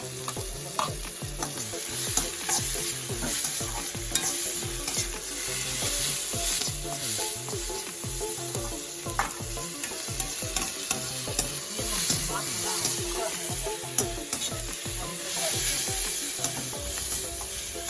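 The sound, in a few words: chicken masala sautéing and sizzling in a pan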